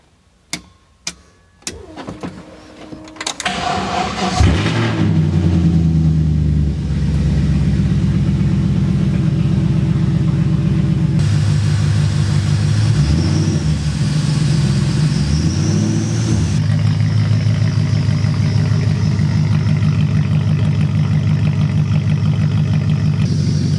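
A BMW E30 drift build with a swapped-in V8 cranks over with several starter bursts, catches, and settles into a loud, rough idle punctuated by throttle blips and revs close by.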